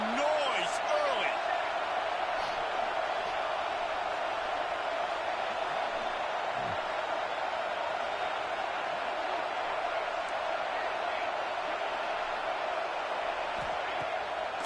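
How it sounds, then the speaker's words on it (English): Steady roar of a packed college football stadium crowd, Auburn game, a dense wash of cheering that holds loud and even throughout with a few sharp shouts rising above it. "This crowd bringing the energy and noise early."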